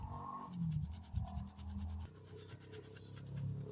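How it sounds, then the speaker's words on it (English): Washed rosemary leaves are grated by hand, close and faint, with a soft rhythmic scraping and rubbing that varies in stroke length. "we will grate the leaves"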